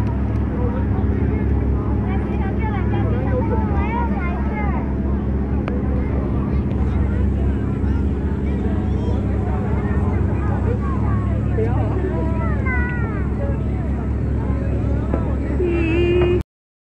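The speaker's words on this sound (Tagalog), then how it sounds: "At nandito na nga kami sa loob ng bangka." Loud, constant engine drone and water rumble from a boat ride at Hong Kong Disneyland heading toward a castle, with people chattering and voices carrying over the motor throughout.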